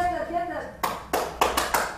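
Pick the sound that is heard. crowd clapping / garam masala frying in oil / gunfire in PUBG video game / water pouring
crowd clapping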